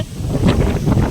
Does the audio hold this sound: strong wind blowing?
yes